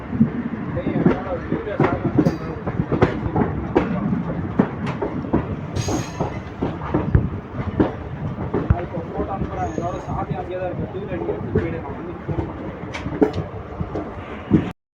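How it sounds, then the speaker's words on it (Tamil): SMVD Bangalore City Express train running at speed near Dindigul Junction, a steady loud rumble with rapid rhythmic wheel clatter throughout, with a voice talking over it. "எஸ்எம்விடி பெங்களூர் சிட்டி எக்ஸ்பிரஸ் சரியான ஸ்பீடு"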